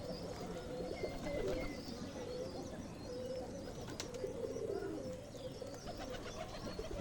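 Pigeons feeding close by, with a steady mix of soft cooing and chirping over a constant busy bed of rustling and pecking that stays at an even level throughout.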